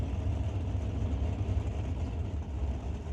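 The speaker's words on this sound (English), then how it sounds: "Backing up now from the burnout, that's Dave Warren. Calls that 62 Bel Air Blue Max." A 1962 Chevrolet Bel Air drag car rolls backward after a burnout at a drag strip, a steady low rumble heard from a distance without any talking.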